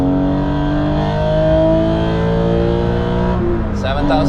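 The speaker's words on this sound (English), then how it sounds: "but that engine." A crashed and rebuilt Porsche 996 GT3 engine revs hard toward 7,000 RPM on the Nürburgring, a loud rising harmonic wail from inside the car that climbs steadily, then drops off sharply near the end as the revs fall.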